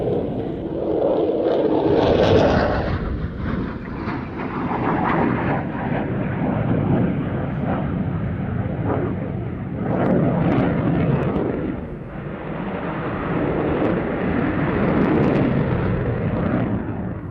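Boeing F-15QA fighter jet flying, a loud sustained roar with broad rushing noise that swells and eases several times, close and continuous without voices.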